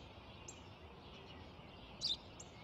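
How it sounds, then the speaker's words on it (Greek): A sparrow gives a few faint, brief chirps, with one clearer chirp near the end, over a quiet, steady background. "Ένα σπουργίτη είναι, πατέρα. Ένα σπουργίτη."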